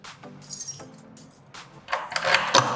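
Metal keys jangle and clink in short bursts, close up, unclipped from a Nomatic Navigator 6L sling bag, with a brighter rattling flurry toward the end.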